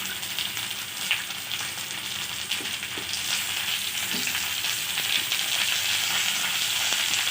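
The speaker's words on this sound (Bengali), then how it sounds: "গাজরগুলো একটু ভাজার পরে ওর মধ্যে দিয়ে দেবো" Carrots fry with cashews and garam masala in a pan of oil and ghee, making a steady, close, continuous sizzle with faint stirring scrapes and no talking.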